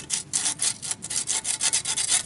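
Corroded crud being scrubbed off the hose fitting of a Mercedes-Benz W114 heater valve, a quick, close, rhythmic rasping of about a dozen strokes.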